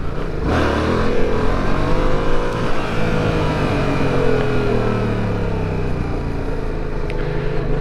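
A Yamaha MT-07 motorcycle engine roars loudly and continuously, its pitch rising and falling with throttle as the rider pulls wheelies, with strong wind rush throughout and no talking.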